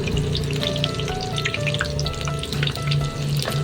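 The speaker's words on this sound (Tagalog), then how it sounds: "At naisalang na rin natin yung ating fried chicken" Fried chicken crackles loudly in a pan, a dense, continuous close-up sizzle with scattered pops and a steady low hum underneath.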